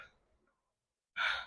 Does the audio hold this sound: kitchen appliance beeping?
no